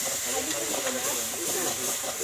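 Ginger garlic paste sizzles in a hot pan, a loud, steady hiss with crackling spits running the whole time, while someone talks over it in Tamil.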